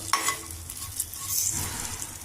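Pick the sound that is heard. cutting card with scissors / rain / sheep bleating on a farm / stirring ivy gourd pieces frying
stirring ivy gourd pieces frying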